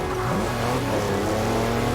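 A racing-game car engine in Forza Horizon 4 roars continuously and loudly, its pitch rising as it accelerates hard over two seconds with no talk.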